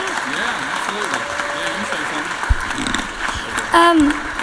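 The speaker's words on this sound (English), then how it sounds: "give her a round of applause" Applause in a legislative chamber for a woman marking her twenty-fifth birthday, moderate clapping running under scattered voices, with a brief louder exclamation near the end.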